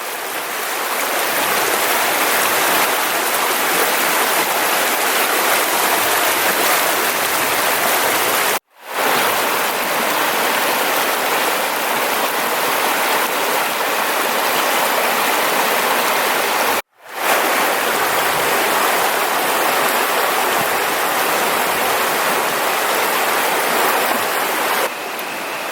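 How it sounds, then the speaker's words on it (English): Straight Creek rushes along steadily in the woods on the Eagle Rock Loop trail. A loud, continuous wash of flowing water fills the whole clip, broken only by two brief cuts. "This is Straight Creek right here."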